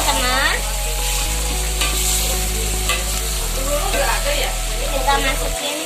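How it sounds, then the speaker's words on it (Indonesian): Spices for goat soto sauté in oil with a close, steady sizzle and stirring, layered over constant background music. "Kita tumis ya teman-teman."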